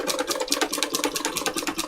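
Sewing machine stitching free-motion embroidery around pink fabric for a junk journal cover, a steady rapid needle chatter with continuous pulsing rhythm throughout, close and moderately loud.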